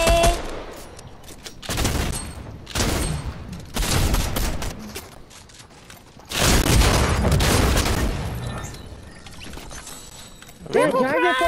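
Bursts of rapid gunfire and blasts from the Fortnite video game, loud and repeated in clusters across the span, with players talking over the shooting.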